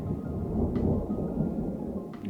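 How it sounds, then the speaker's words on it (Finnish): Thunder rolls in the distance during a stormy fishing outing on a Finnish archipelago, a low continuous rumble of steady moderate loudness with faint rain around it and no voices. "tuolla jyrisee aika hyvin takana"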